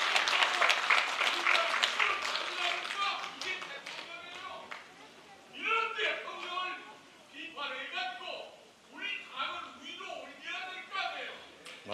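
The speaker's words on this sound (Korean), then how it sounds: "여러분 큰 박수 한번 부탁드립니다" An audience at a political party members' debate forum in Seoul applauds loudly at first, the clapping fading as a voice takes over and speaks over the last of it.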